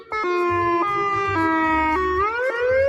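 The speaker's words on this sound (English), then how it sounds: "That's a scary siren." An old civil defense siren malfunctioning, its loud steady wail jumping abruptly between pitches and sliding unevenly upward, heard alone and close.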